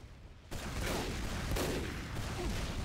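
Gunfire in a competitive Team Fortress 2 match during a two-on-two sniper duel, heard as a dense, loud burst of shots that starts abruptly after a short quiet lead-in and keeps up steadily.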